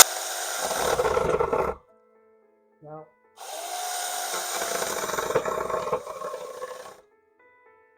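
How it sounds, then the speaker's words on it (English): A battery chainsaw whines as it cuts through wood in two long bursts separated by a short pause, close by, with a brief spoken word in between. "Now I've got one of these battery operated chainsaws."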